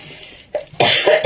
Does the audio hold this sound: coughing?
yes